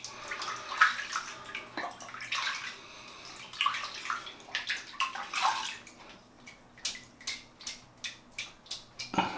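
Shaving brush rinsed under running water, close splashing and gurgling with rhythmic pulses as the brush is worked and squeezed under the flow, fairly quiet with no talking.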